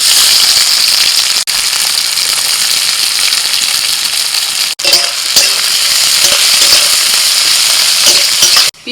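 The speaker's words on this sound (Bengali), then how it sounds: "কড়াইতে সর্ষের তেল দিয়ে দিয়েছি ওর মধ্যে দিয়ে দিচ্ছি পেঁয়াজ কুচি" Chopped onion frying in mustard oil in a wok gives a loud, steady sizzle that fills the whole clip, with brief dips where it is stirred and no talking over it.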